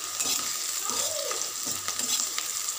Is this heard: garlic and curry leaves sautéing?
yes